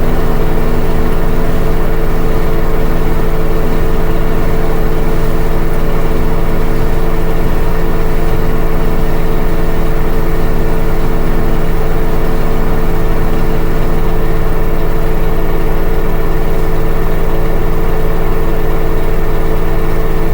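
LG WM3600HWA front-load washing machine on an extra high spin with two coats inside, a loud steady motor hum and drum whir with stable tonal lines, sustained throughout without talking.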